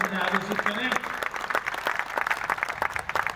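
An audience at a Hindi kavi sammelan poetry recital claps and cheers together, a dense, sustained burst of applause heard close up, with a voice speaking over it.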